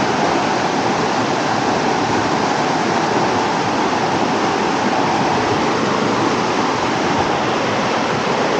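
Rushing water at Debotakhum, Bangladesh, heard from a boat as a loud, dense and unbroken roar of flowing water that holds steady throughout.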